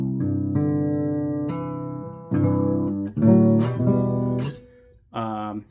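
Guitar in open tuning, fifth string dropped to G and sixth string to C, strummed and picked as ringing chords and single notes with long sustain, several separate attacks with brief pauses between, close and clear, no talking.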